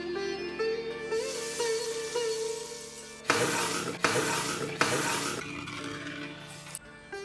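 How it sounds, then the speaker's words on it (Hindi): Desi ghee tempering in a ladle with Kashmiri chili, bursting into loud sizzling spatters after a few quiet seconds, with a few sharp crackling surges before it settles. "और ये लगेगा देसी घी का तड़का। तो ये मैंने ले ली कड़छी, और ये गई इसमें कश्मीरी मिर्च।"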